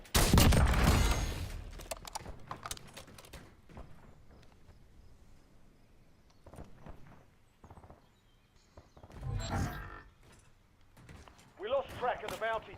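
A burst of video game gunfire opens loudly, followed by scattered shots, footsteps and a few later impacts, while people talk in between.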